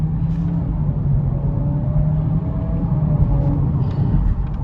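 A 2023 Acura Integra with a CVT is heard from the cabin as it drives and shifts to second gear with the paddle shifters. A steady low engine drone and road rumble hold throughout with a faint rising tone, and no one talks.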